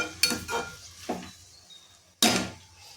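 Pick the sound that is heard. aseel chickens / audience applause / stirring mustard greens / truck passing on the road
stirring mustard greens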